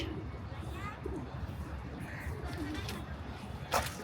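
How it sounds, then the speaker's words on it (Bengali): Pigeons cooing softly nearby at a home with ducks, amid background chatter and ambient noise, with a brief sharper sound near the end. "এই আমাদের কবুতর"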